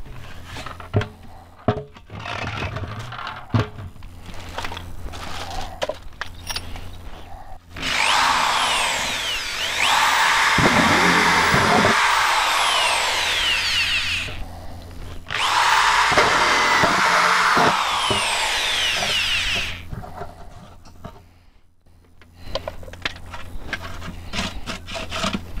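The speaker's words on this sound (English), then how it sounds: "the next step is to drill the holes in your bottom" A power drill whines loudly in two long bursts as it bores into wood, separated by a pause, with quieter handling clatter before and after.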